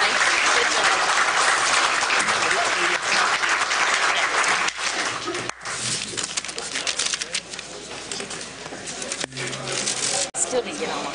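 A political forum audience applauds, a loud, dense wash of clapping that carries steadily and then thins into scattered claps toward the end.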